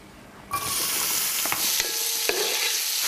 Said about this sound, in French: je mets un peu d'huile et je vais faire revenir les oignons